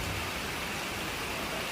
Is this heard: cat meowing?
no